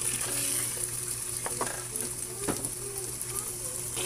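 Ground pork and liver frying in a pan while being stirred: a steady sizzle fills the background, broken by a few soft scraping strokes, with no talking.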